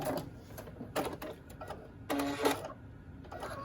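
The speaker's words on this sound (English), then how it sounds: "And just sew the edge there." A sewing machine stitches along the edge of fabric for a wrist sling, running in several short bursts of rapid mechanical chatter with brief pauses between them, close and moderately loud.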